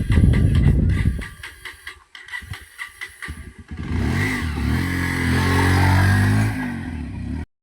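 A motorcycle engine: a loud low rumble at first, then uneven clattering bursts, then a sustained, steady humming drone that cuts off abruptly at the end.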